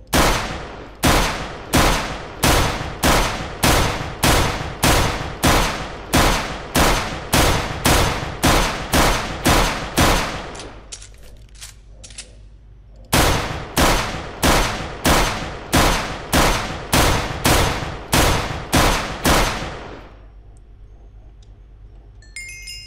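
Gunfire in the Minecraft video game aimed at a tough creature, two long bursts of loud, evenly spaced shots separated by a short pause, each burst ending in a quieter lingering tail.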